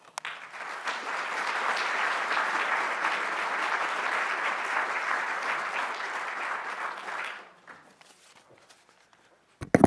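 Sustained applause from an audience at a university lecture hall as a speaker is welcomed for the inaugural Nagel Lecture, steady dense clapping for about seven seconds before tapering off into near silence.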